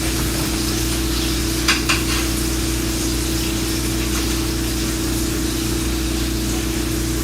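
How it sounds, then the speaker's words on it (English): A steak sizzling in a tilted pan while butter, thyme and garlic are spooned over it, giving a steady frying hiss over a constant low hum from a stove fan, with one brief clatter partway through. "you want to spoon the butter and thyme and garlic over the steak"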